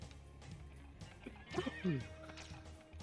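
A horse whinnies in the Castlevania: Symphony of the Night video game, a short rising neigh in the middle over quiet game background, with soft voices nearby.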